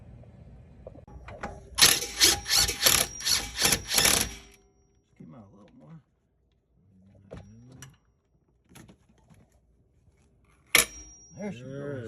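Heavy hammer blows ring out in a fast burst of about eight metallic strikes while a front strut is pounded loose on a Jeep Grand Cherokee during a lift kit install; a single sharp strike follows later, with brief talk between.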